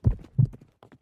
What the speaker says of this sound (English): Over the crest of the hill came a horse and a rider.